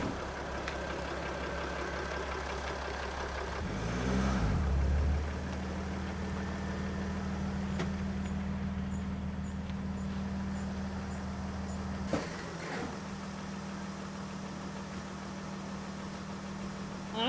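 A rusty Sprinter van engine hums low and steady while the van eases into a garage, its tone shifting slightly partway through and settling back into a continuous idle-like drone.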